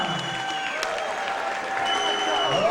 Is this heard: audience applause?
yes